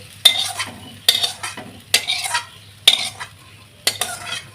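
Spice paste stirred into a pot of mung dal with fish head, giving five evenly spaced scraping strokes of a spoon against the pot with a soft sizzle after each, close and loud, without talking.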